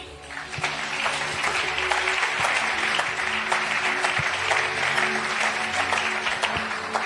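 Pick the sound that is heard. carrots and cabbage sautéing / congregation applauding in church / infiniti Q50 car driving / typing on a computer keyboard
congregation applauding in church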